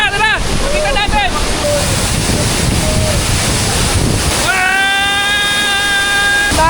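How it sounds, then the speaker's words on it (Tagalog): Strong wind roars across the open slope at Tekip Falls, a waterfall in Bakun, Benguet, a steady broadband buffeting on the microphone that lasts throughout, with voices talking over it. "napakalakas na hangin at napakalamig ng tubig"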